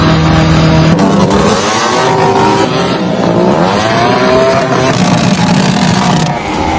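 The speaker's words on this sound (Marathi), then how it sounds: "त्यांनी 60 ते 70 दुचाकींचे सायलेन्सर काढले आणि कर्णकर्कश आवाज काढत अक्षरशः धिंगाणा घातला" Dozens of motorbikes with their silencers removed roar and rev continuously at a rowdy Shivjayanti gathering, engine pitch rising and falling in loud overlapping sweeps, close and harsh throughout.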